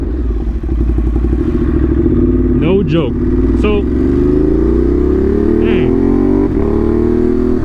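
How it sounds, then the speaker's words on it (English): Ducati Monster motorcycle fitted with an SC Project exhaust, ridden on back roads: a loud, continuous engine drone with rising pitch as it accelerates, while someone talks briefly over it. "This bike sounds insane, man."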